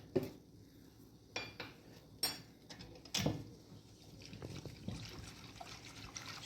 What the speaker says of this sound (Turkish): Malzemelerimizi karıştıralım